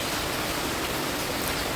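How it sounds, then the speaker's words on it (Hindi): Heavy rain falling outdoors during a prolonged downpour, a steady dense hiss of water with no breaks, continuous and fairly loud throughout with no voices. "बहुत ज़्यादा बारिश है, बहुत ही ज़्यादा।"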